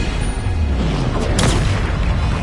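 A Bombarda spell explosion in Hogwarts Legacy, a loud deep boom with a sharp burst partway through over a steady rumbling game background.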